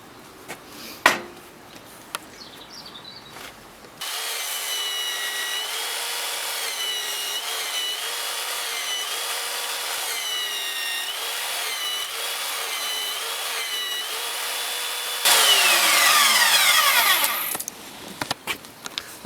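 A belt sander with a coarse 60 or 80 grit belt shapes a climbing hold. It gives a long, loud, steady grinding whir with slight pitch wobbles, then a harsher, brighter stretch before it cuts off, with faint handling noises around it.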